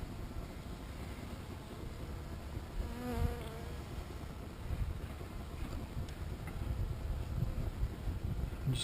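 Steady, close buzzing from a mass of honeybees on crooked comb in a hive, a continuous drone that swells slightly toward the end.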